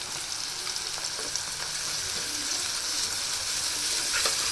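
Ginger and garlic sizzle in hot oil in a pan while cooking capsicum curry, a steady dense crackle and hiss that holds throughout and grows slightly louder, close up with no talking.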